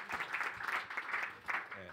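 Audience applause after a game developer conference talk, a brief burst of close, uneven clapping mixed with a voice speaking over it.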